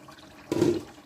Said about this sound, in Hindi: हमने ग्रेवी रखनी है तो इसलिए हम थोड़ा सा पानी ऐड कर रहे हैं।